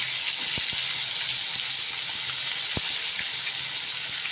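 Turmeric and chopped tomato hitting hot oil in a pan for masala bhindi, a steady broad hissing sizzle with a couple of faint clicks, close and continuous without any voices.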